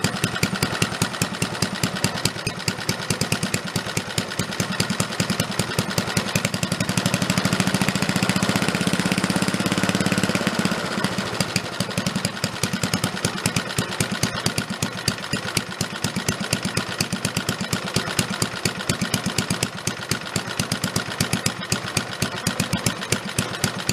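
Antique military engine idling at its lowest throttle, a steady rapid chugging pulse with an uneven knock, close and loud throughout, briefly deepening midway.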